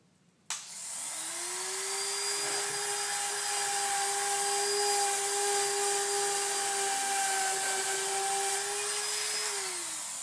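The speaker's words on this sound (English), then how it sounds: "You then take your router, and if you grab it low, you'll have more control than trying to do it up here." A handheld router cuts a speaker hole through a ceiling tile, spinning up sharply and then holding a steady, loud high-pitched whine for several seconds before winding down near the end, with no voices.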